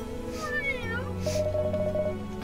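Cat meowing in the video game Little Witch Nobeta, a couple of drawn-out wavering meows over a sustained musical background, fairly loud and close.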